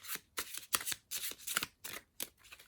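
Tarot cards of the Serpent & The Peacock deck, 3 Moons edition, riffle shuffled in several quick papery bursts with brief gaps, close and crisp with no talking.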